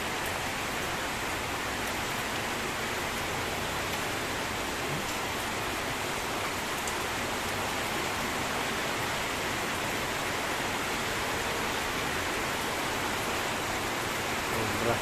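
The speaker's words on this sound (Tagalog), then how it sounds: "Hintay ito natin yung ulan." Heavy rain pours steadily and densely throughout, a loud, unbroken hiss with no pauses.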